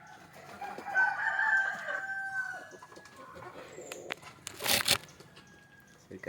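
A native country rooster crows loudly in the morning in a long, drawn-out call, followed by scattered clucking and a sharp rustling burst near the end.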